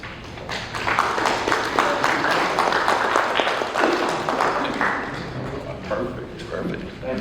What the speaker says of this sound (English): He worked hard for that sparse applause.